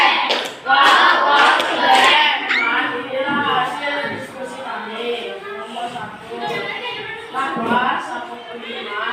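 Primary school class in Bandar Labuhan doing the rhythmic "tepuk keren" clap, bright children's voices chanting loudly together with quick bursts of clapping in the opening seconds, then continuing in sing-song unison.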